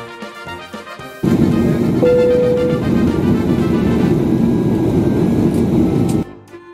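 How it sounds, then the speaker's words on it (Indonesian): Airplane engine roar, a loud, steady broadband rumble that cuts in sharply and holds for about five seconds before stopping abruptly, with faint music before it. "Pesawat terbang."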